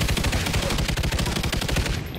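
Rapid automatic gunfire from the Call of Duty Ghosts campaign: a loud, continuous burst of closely spaced shots lasting about two seconds, close up with no talking.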